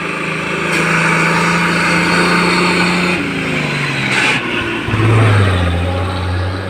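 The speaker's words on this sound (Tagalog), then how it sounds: "Oh, tingnan mo ang dinig ng sasakyan" A car engine labours steadily up a mountain road near Talete and Mayoyao, its drone holding a constant pitch, then dropping and shifting lower as the vehicle changes gear, loud and continuous without talk.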